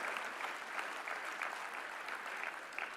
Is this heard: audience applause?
yes